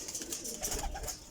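Pigeons cooing in a loft of champion flying pigeons, soft low murmuring coos repeating over about a second amid faint background noise.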